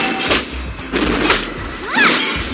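A turret being destroyed in Mobile Legends, heard as three heavy crashing thuds spaced about a second apart, the last ending in a bright sweeping chime, loud and up close.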